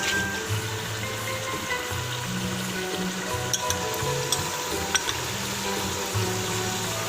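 Steady sizzling and frying of a haleem mixture in a pot, with soft stirring scrapes and a few light clinks over the crackle.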